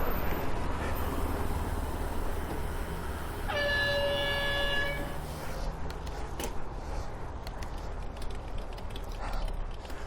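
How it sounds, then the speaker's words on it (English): A video game truck air horn blasts once for about two seconds over steady engine rumble and road noise. "I think there's a cool down on the air horn."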